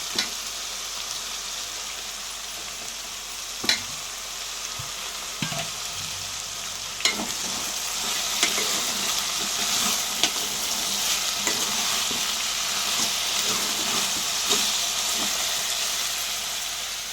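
Brinjals and drumstick pieces sizzle steadily in hot oil in a pan, with occasional sharp scrapes and knocks of a spoon stirring them, the frying hiss building slightly louder midway and continuing throughout with no talk.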